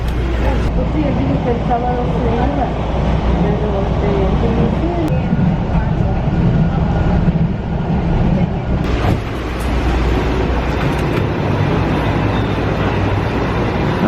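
Steady rumble of a new passenger train in Miami riding along, with broad continuous noise and a brief shift midway, under occasional quiet voices.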